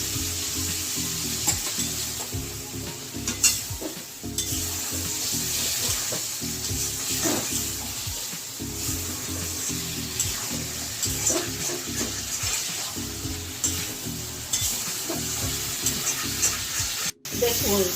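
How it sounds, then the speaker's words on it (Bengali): Spice paste fries and is stirred in a pan with a splash of water for a Bengali fish curry with cumin, making a constant bubbling sizzle broken by repeated scraping strokes, close and without speech. "মশলাটা যাতে না পড়ে একটু জল দিয়ে মশলাটা কষানো"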